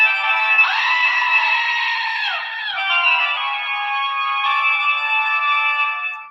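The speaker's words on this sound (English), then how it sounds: "We got our Halloween goat." A goat bleat sound alert on a livestream plays loud and steady for about six seconds, a wavering, quavering cry with a sliding pitch that holds then trails off at the end, with no talk over it.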